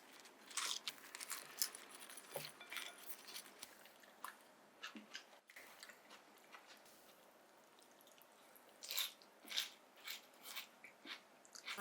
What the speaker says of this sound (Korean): 샐러드부터 먹어.